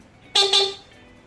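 Stock horn of a Honda Click 125 V3 scooter, pressed with the engine off: two short, loud, bright toots in quick succession, close up, then silence.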